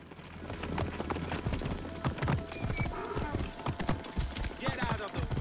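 Horse hooves clip-clop and a horse whinnies in Assassin's Creed Origins, with rhythmic footfalls close by and someone talking over the game sounds.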